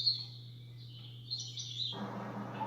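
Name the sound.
bird sounds from white noise night light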